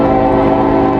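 A train rips past in Walton, its horn sounding as a steady, loud tonal blast over the continuous rumble of the rail cars, sustained through the whole second.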